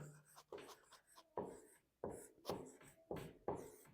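Pen strokes scratching on paper as notes are written by hand, in repeated short bursts with brief pauses between them, quiet and close, with faint talking in the background.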